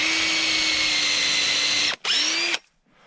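Cordless drill boring a tap hole into a backyard maple tree, whining steadily for about two seconds, stopping briefly, then revving again for half a second before cutting off, close and loud.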